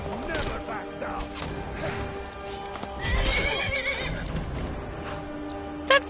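A horse in the video game Skyrim neighs and whinnies amid clip-clopping hooves and combat clatter, fairly loud in a busy game soundscape with background talk.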